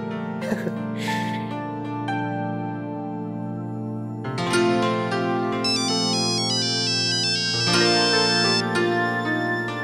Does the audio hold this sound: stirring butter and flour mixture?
no